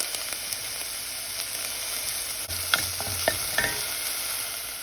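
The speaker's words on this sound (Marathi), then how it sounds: "चड काय नाका पियाव म्हणून भाजलो आहा थिंगा आनी मिक्स करून बरें अशें भाजून हाडया" Chopped onion and green chili fry in hot oil for a Goan black chana curry, a steady close sizzle with a few spoon scrapes and taps as the pan is stirred.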